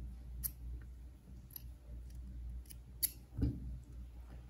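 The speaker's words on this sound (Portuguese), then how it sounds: "Esse pedacinho de linha eu vou cortar." Scissors snipping embroidery thread during freehand stem-stitch work, a few small crisp clicks with one clearer cut near the end, close and quiet over faint room noise.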